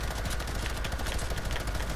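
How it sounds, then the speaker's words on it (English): Continuous rapid gunfire in the Fortnite video game, a dense unbroken rattle of shots at steady loudness throughout. "Here, I'll shoot my gun."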